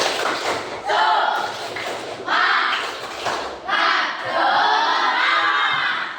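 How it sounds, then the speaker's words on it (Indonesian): A classroom of students doing a rhythmic spirit-clap ice-breaker chant, with loud bursts of group shouting and clapping in several surges. "kita ice breaking dulu, ya. Baik, tepuk semangat."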